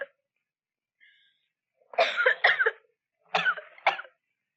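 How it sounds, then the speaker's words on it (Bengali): A person coughs: a faint early cough, then two rough, close double-cough bursts separated by brief silence, with no other sound around them. "তোমার কি খুব কাশি হয়েছে?"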